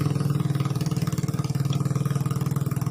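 A smoking motorcycle engine idles close by with a steady, rapid low thumping pulse at constant speed, loud and unbroken with no voices.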